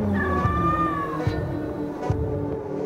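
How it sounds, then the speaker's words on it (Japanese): A stray cat meows in a film scene, a drawn-out rising and falling call near the start, followed by a couple of short thumps over a steady low background hum. "野良猫。"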